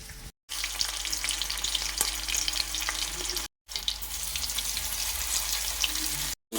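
An eggplant, potato and onion stir-fry with green chillies sizzles steadily in a pan, with stirring scrapes over the hot oil and a couple of brief dropouts.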